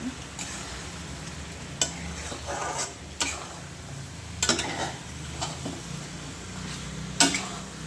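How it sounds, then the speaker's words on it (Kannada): A spoon stirs chicken gravy with salt in a frying pan, sizzling steadily at low volume, with several sharp metallic scrapes and clinks against the pan and no talking. "ಈಗ ಉಪ್ಪು ಹಾಕಿ ಸ್ವಲ್ಪ ಚೆನ್ನಾಗಿ ತಿರುಗಿಸೋಣ ಯಾಕಂದರೆ ಉಪ್ಪು ಎಲ್ಲ ಮಿಕ್ಸ್ ಆಗಬೇಕು"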